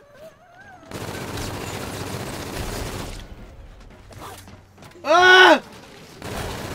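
Gunfire in COD Zombies, a dense stretch of rapid shots, then quieter sporadic firing and mechanical clatter, broken by a sharp shouted cry partway through.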